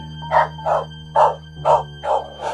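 Dog barking sound effect in a Bengali horror story: six loud, evenly spaced barks close up, heard alone.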